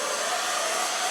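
A welding torch preheating cast iron before nickel 55 welding gives a steady, loud broadband roar that holds evenly throughout with no talking.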